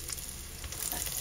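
Garlic dropped into hot oil in a pan for salmon-head sinigang, producing a steady, close, hissing sizzle that holds evenly through the short moment with no speech.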